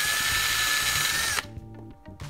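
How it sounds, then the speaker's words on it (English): A power drill bores into a pole for a dog flirt pole, a loud high whine running steadily for over a second before cutting off, followed by a few light knocks and clatters. "Not cut, drill."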